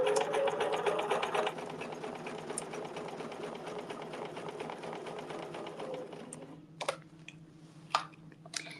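A sewing machine stitches an embroidery design in a fast, steady whir of needle strokes for several seconds, then stops, leaving a few sharp clicks and a low hum.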